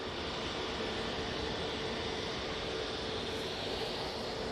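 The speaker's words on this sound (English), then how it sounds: "Virgin Atlantic A350 now on short finals now for 2-3 right" A Virgin Atlantic Airbus A350 on short final approach to runway 23 right at Manchester Airport gives off a steady, broad jet roar that stays even and fairly distant throughout.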